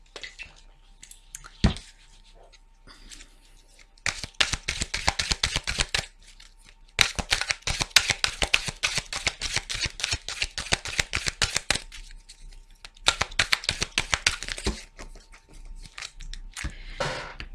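Tarot cards are shuffled in repeated bursts of fast, close riffling and flicking, separated by short quiet pauses, with no speech.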